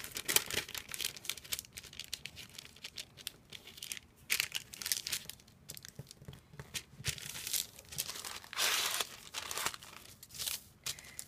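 Paper lining being folded by hand for a soap mould gives close, dry crinkling and crackling bursts that come and go throughout, with no talking.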